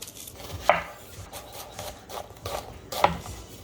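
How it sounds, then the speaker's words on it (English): Onion being chopped with a knife, a few crisp knife strokes against a board with two sharper knocks and softer cuts in between, close and alone. "Cut the onion as well."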